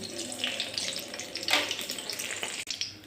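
Dried red chillies, bay leaves and nigella seeds sizzle in hot oil in a home kitchen, a continuous crackling fry with brief spitting bursts, heard close and alone.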